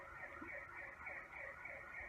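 An emergency vehicle siren passes outside, its steady wailing tone rising and falling in slow, repeated sweeps and holding at a fairly even, moderately distant level throughout.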